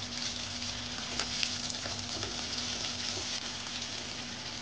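Hilsa fish fry in hot oil, a steady close sizzle and crackle with continuous hissing and small irregular pops throughout.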